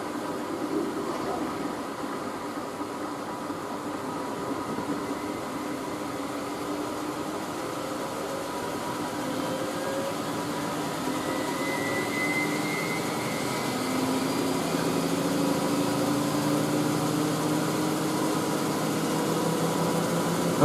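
Miele W562 Prestige Plus front-loading washing machine starting its spin cycle, a steady broadband whoosh and hum with a faint rising whine as the drum speeds up, loud and continuous.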